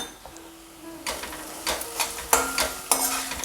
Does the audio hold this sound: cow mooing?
no